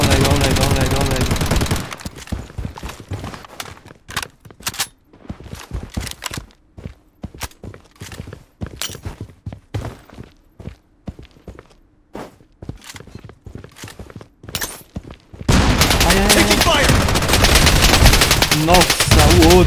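In the shooter video game Project BloodStrike, sharp gunshots and bursts of rapid fire crack out in loud clusters over footsteps and movement, with dense, louder stretches at the start and end.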